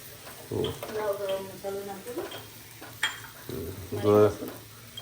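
Masala tea spiced with garam masala simmers in a pot, giving a steady close bubbling hiss with occasional stirring and scraping clinks, while voices talk over it.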